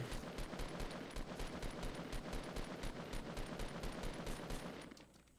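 Sustained rapid automatic gunfire from a legendary SCAR assault rifle in Fortnite Battle Royale, loud, close and evenly paced, running continuously before cutting off and fading near the end.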